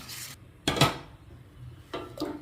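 A spoon scrapes and clinks against a metal pot in a few short bursts while thick ragi (finger millet) porridge is stirred nearby.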